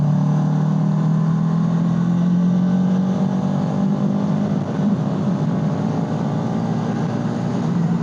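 A vehicle in fourth gear gives a loud, steady engine drone that rises slightly in pitch as it accelerates, then eases off and settles as the throttle is cut for engine braking, with no talk.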